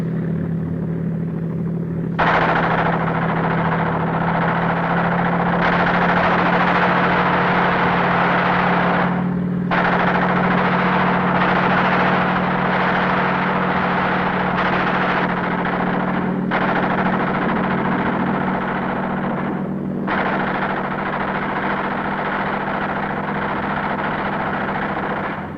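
Military gunship helicopter flying, a steady low rotor drone with broad rushing noise that surges and drops in repeated bursts, loud and continuous throughout.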